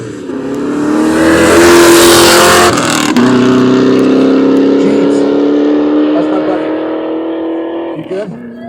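A Roush Mustang drag car accelerates hard down the strip at Utah's Festival of Speed, its engine roaring loud and close, with one sharp gear shift before the note climbs again and fades at the end. Announcer chatter runs underneath.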